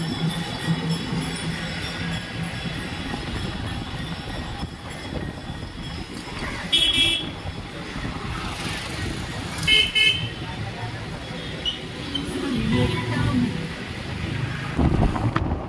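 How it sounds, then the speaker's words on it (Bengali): A motorbike ride through city traffic toward Sector 5 carries a constant engine drone and wind buffeting on the microphone, broken by a few short horn toots from nearby vehicles. "বাইক উঠে পড়লাম।"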